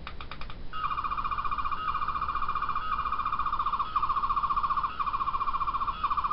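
Classic-era Doctor Who sonic screwdriver effect: a steady electronic warble pulsing in repeated cycles of about a second, loud and close, with a brief clicking start and no voices.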